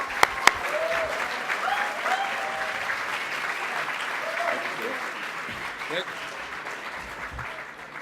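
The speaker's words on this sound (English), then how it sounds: "So big round of applause for Peter Lord" A keynote audience applauds Peter Lord, a dense, steady patter of clapping filling the room for several seconds, with a couple of sharp knocks at the start and voices faintly over it as it gradually thins.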